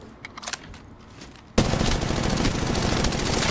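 Apex Legends Mobile gunfire breaks out suddenly, a sustained loud burst of rapid automatic shots close by after a few quieter clicks and shuffles.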